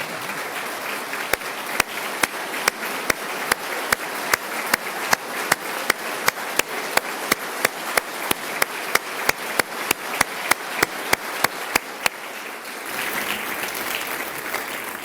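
Applause in the legislative chamber during the Ohio governor's State of the State address, with one loud, close clap or knock repeating at an even, steady beat over a softer crowd wash, then fading into general room noise.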